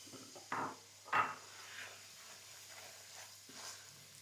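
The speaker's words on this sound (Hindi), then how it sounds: "सूजी को हम डाल के अच्छी तरह से भून लेंगे।" Semolina roasting in a pan with green cardamom pods, giving soft, faint scraping and stirring sounds with a couple of brief louder scrapes over a low sizzle.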